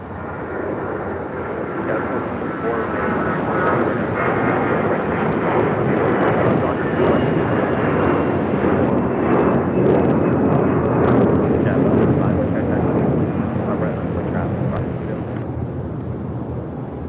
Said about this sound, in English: That was American Airlines Flight 1952 heading to Charlotte